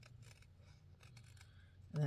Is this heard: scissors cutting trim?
yes